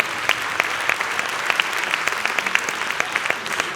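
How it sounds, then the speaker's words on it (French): Audience applause at the Trophées des Entreprises du Cher 2023 awards ceremony, greeting a group photo of prize winners: a steady, dense round of clapping from a sizeable crowd, fairly close and lasting throughout with no talk. "Merci encore de les applaudir très fort"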